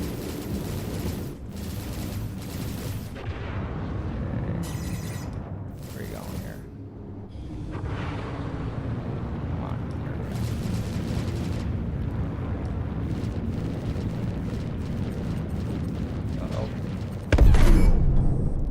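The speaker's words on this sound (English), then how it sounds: "Okay, destruction of vehicle." A vehicle blown apart in the space game Star Citizen, with a steady low rumble of engine and game noise that ends in a sudden loud, broadband blast near the close.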